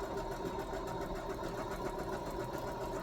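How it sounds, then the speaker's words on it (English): A sewing machine runs steadily while stitching along a marked line, producing a continuous rapid mechanical whir with a fast even pulse at moderate volume, and no one speaks. "So I'm just going to stitch right on my line that I have made."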